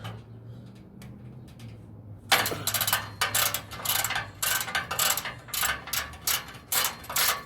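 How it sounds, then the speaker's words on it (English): A wrench ratchets loudly while a nut is loosened on a D15b7 engine during a turbo kit install, with vice grips holding the part; after a quiet low hum, a rapid run of sharp metallic clicks takes over. "you can go ahead and start loosening up this nut"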